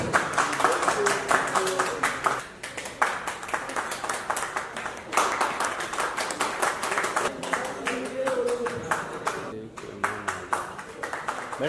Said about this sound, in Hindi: दोस्तों तालियां बजा।